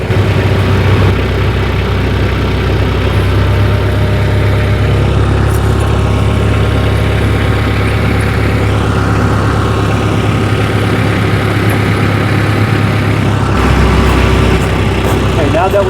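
A tractor fitted for winter with pewag dopplespur tire chains drives forward, its engine running steadily loud and low throughout, with a shift in tone near the end and talk over it.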